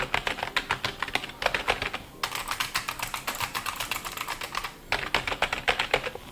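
Steady, rapid typing on a Corsair mechanical keyboard, close up, with dense, somewhat muffled clacking keystrokes and two short pauses.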